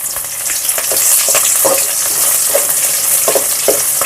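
Sliced green chillies and garlic frying in a pan, a steady loud sizzle with scattered crackles and occasional stirring scrapes throughout, no voices.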